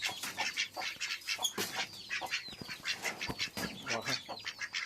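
Domestic ducks quack loudly and close by, a noisy flock giving overlapping harsh calls in rapid bursts that keep going with little pause, with no speech.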